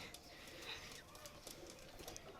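Pakistani high flyer pigeons cooing faintly and steadily within a noisy enclosure, soft throaty coos repeating over a rough background hiss.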